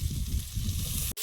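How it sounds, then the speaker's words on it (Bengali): Green tomato dropped into hot oil in a pan already frying onion, slit green chillies and fish spices, giving a steady loud sizzle that runs unbroken before a brief dropout and return. "এবার কাঁচা টমেটোটা দিয়ে দেবো।"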